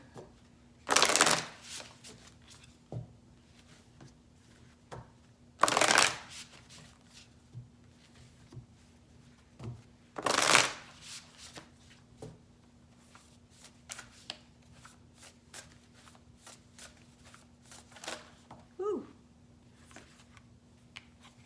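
Tarot cards being shuffled in three loud, separate bursts spaced about five seconds apart, with softer card handling and light taps in between, no talking.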